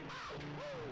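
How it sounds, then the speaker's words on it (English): Birds cawing inside the Banjo-Kazooie game world, two rising and falling calls that carry clearly over a steady low background hum, with no talking. "why are these birds still here?"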